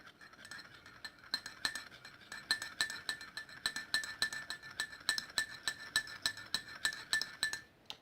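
A fork beats egg and milk together in a bowl for muffin batter, giving a rapid, steady series of bright clinks against the bowl that repeat rhythmically and close up, with no talking.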